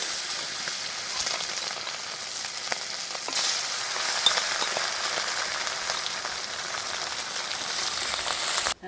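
Steady crackling sizzle of fish frying in hot oil, continuous and close, with scattered sharper pops throughout.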